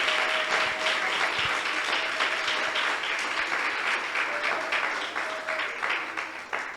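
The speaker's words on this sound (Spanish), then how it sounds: "Denle un aplauso al Señor." A church congregation applauds during a sermon, a broad, steady clatter of many hands that stays loud and then thins slightly toward the end, with a faint sustained tone underneath.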